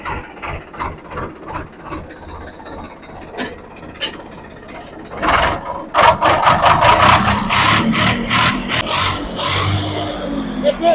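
A tractor engine idles with a rapid low chugging, then revs up into a louder, rougher roar with clattering mechanical knocks, close by and without speech.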